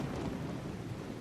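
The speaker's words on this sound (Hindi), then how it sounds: "कपड़े गीले हो गए हैं और बारिश भी बहुत है" Heavy rain with a low rumble of thunder in a Hindi comedy film scene, a dense steady wash of rainfall under a deep rolling boom, brief and fairly close.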